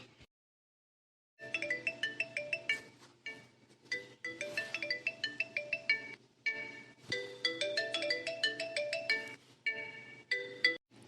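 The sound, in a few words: phone ringing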